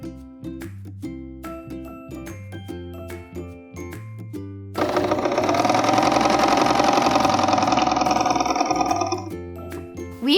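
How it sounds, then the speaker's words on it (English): A serger sews around a sweater hem with a loud, fast mechanical whir of several seconds, framed by quieter stop-start rattles and handling before and after. "put it under your serger one more time, and let's go around it a second time"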